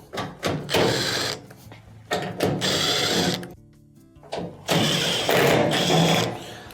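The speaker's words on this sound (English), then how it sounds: "on the back here we have 3 1/4-inch screws that have to be removed" Quarter-inch screws are taken out of the top panel of a washing machine, heard as close, loud bursts of whirring and ratcheting from a driver with short pauses between them.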